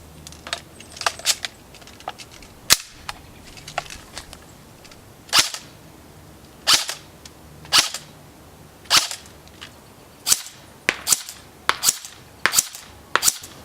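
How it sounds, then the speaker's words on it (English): An ICS Sig 551 airsoft electric gun on its stock battery fires outdoors in sharp, snappy shots and short rapid bursts, loud and close, with brief gaps between strings of fire and no talk. "The rate of fire on the stock battery was about 11 to 13 rounds per second."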